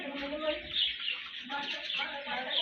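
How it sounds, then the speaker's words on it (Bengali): A pair of silkie chickens, a rooster and hen, clucking and chattering close by in a continuous run of soft calls. "সিল্কি মোরগ মুরগি জোড়া"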